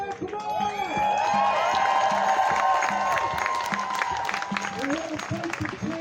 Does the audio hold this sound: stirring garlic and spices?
no